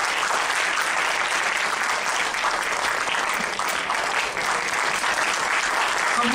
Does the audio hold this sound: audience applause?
yes